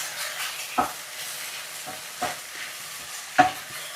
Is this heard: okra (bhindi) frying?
yes